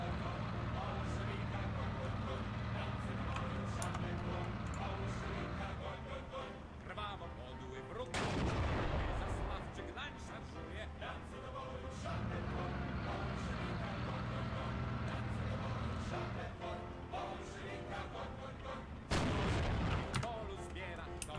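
Battle sounds from the WWII strategy game Steel Division II, Polish Armia Krajowa partisans fighting alongside a Hetzer tank destroyer: steady gunfire throughout, with two heavy artillery blasts booming out near the middle and near the end.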